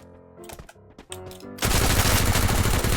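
Gunfire in the Free Fire shooter game: after some scattered shots, a sudden loud burst of rapid automatic fire takes over and keeps going without a break.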